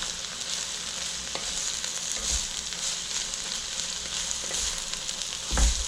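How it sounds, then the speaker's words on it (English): Chopped pumpkin leaves fry in a pan over an open flame, giving a steady close sizzle with faint scrapes of stirring and a soft clunk near the end. "the pumpkin leaf which we have chopped little by little and give a mix."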